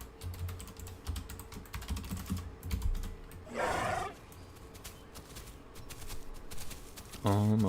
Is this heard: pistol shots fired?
no